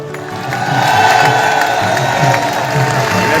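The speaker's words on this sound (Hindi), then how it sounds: "जोरदार तालियों के साथ" A festival crowd at the Gujjar Mahotsav, Surajkund Mela, cheers and applauds loudly and steadily throughout during an award honoring. Mixed shouts and voices rise over the dense clapping.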